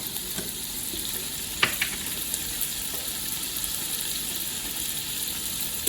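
Onions frying in a pan for chicken lasagna, turning golden: a continuous soft sizzle with a few sharp spatter pops and light stirring clicks, close and fairly quiet.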